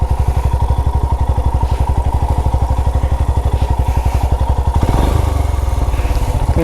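A motorcycle engine idles close by at a parking spot in Varkala, throbbing in a steady rapid pulse, then shifts to a rougher, lower note near the end as the bike is parked.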